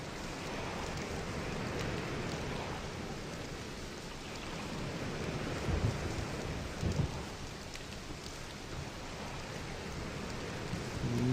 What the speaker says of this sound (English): I guess all this constant rain isn't doing us any good.